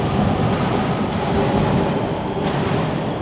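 A Class 158 diesel multiple unit, number 158732, runs through Glasgow Queen Street station as the Inverness service, giving a steady, loud rail rumble with faint wheel squeal throughout.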